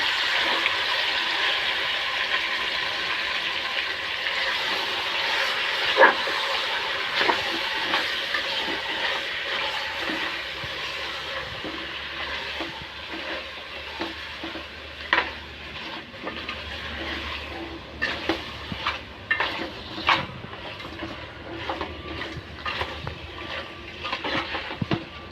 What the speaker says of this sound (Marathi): ते आता चांगलं परतून घेऊया.